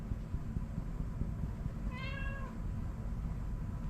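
A single cat meows once, a short rising-falling call in the middle, heard outdoors over steady low rumbling background noise, as if near a truck on a roadside.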